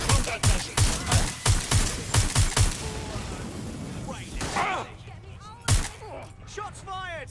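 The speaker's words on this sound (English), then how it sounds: "Shots fired!" Rapid bursts of gunfire from a Watch Dogs Legion gunfight, sharp close shots repeating in a quick rhythm through the first few seconds, then a lone later shot among scattered impacts and faint voices.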